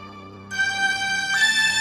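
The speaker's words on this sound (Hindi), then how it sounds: "पापा का फोन आ गया।" A mobile phone rings with an incoming call, a bright melodic ringtone that begins after a short quieter tone and continues steadily and clearly, with no talk over it.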